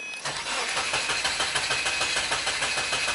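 A Subaru engine cranks and catches, settling into a steady, loud running sound with rapid regular pulses and no talk over it.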